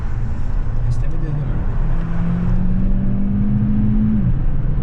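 A 2016 Volkswagen CC 1.4 TSI with a 160 hp DSG gearbox pulls hard. Its engine note climbs steadily for about four seconds from inside the cabin, then eases off, under loud steady road and interior noise.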